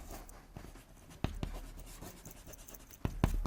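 A marker or chalk scratches notes onto a classroom board during an environmental science lesson, producing soft intermittent strokes with a few sharper taps, close and without speech.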